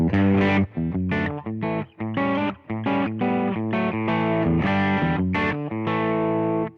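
An electric guitar plays a phrase of sustained chords and notes through a Boss GT-1 effects processor's clean preamp with lower gain, loud and close, with brief gaps between phrases.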